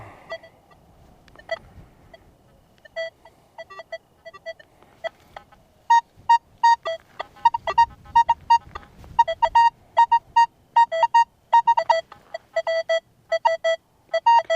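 A multi-frequency metal detector set to four tones sounds its target tones during a relic test, at first scattered beeps and then a fast run of sharp, clear bleeps repeating in quick bursts.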